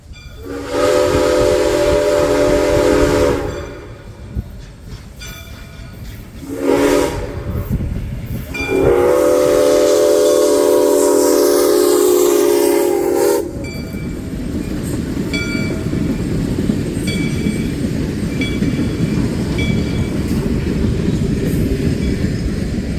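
SOO Line steam locomotive 1003 sounds long, loud chime whistle blasts in two bursts, then rumbles past with a steady roar of wheels and cars close by.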